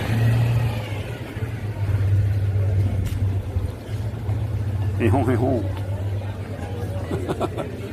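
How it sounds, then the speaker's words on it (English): An orange Citroën 2CV drives down a French street, its steady low engine hum running throughout, with people's voices and street chatter mixed in. "Here's a 2CV in orange, coming down a French street"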